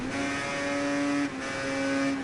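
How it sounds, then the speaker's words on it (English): Motorbike engine in the racing game Ride 3 drones at a high steady pitch, loud and close, with a brief dip in tone midway, as if shifting gear, and no talk over it. "I will turn the bike engine sound down when I finish this race"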